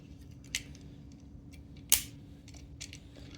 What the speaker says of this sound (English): And there's like ratchets here now.